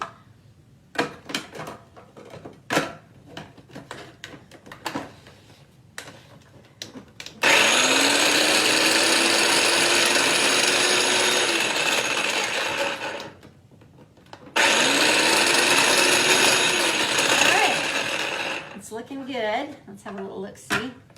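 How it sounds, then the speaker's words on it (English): Food processor chopping basil, garlic and olive oil, whirring loudly in two long runs separated by a short pause, with quieter handling clatter and talk before and after. "we're gonna chop that up, and it'll be loud here for a second"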